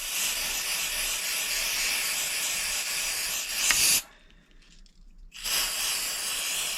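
Compressed air blasts onto an RC brushless motor shaft as a loud, steady hiss that cuts out sharply for about a second and then resumes just as strongly, close to the listener.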